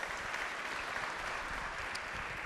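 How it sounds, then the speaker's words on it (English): Audience applause at a university–city partnership event in Newark, a dense steady wash of clapping held at even loudness for a couple of seconds with no voices over it. "Big round of applause."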